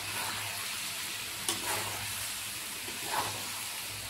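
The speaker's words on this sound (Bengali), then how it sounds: "মাংসটা এবার ভালো করে কষে নেবো।" Beef and potatoes sautéed in a pan, a soft steady sizzle with a couple of brief stirring scrapes, close but quiet, no talking.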